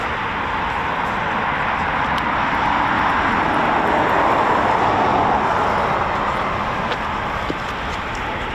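A Eurofighter Typhoon FGR4 jet with EJ200 engines at RAF Coningsby makes a loud, continuous roar that swells slightly mid-way and holds steady for several seconds, with no speech.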